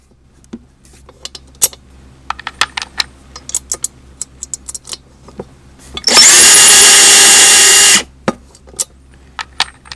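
A Lyman Universal case trimmer cutting a cartridge case, a loud steady whirring burst of about two seconds, framed by sharp clinks and rattles of brass cases being handled close by.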